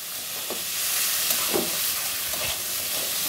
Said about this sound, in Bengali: আরও একটু নেড়ে চেড়ে ভেজে নিব।